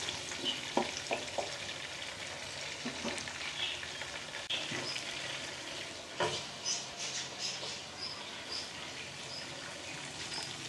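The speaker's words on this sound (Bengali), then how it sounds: "পেঁয়াজটা ভাজা ভাজা করে নেব।" Onions frying in oil for a homemade chicken biryani, with green chilies, mace and a little cardamom in the pan: a steady, faint sizzle runs throughout, broken by occasional stirring scrapes and clicks.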